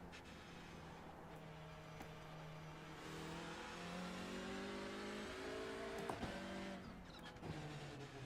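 A TCR race car in the iRacing sim hums along at Orant Park South as it is driven back to the pits, its steady engine drone rising and falling gently in pitch, with a couple of brief clunks near the end.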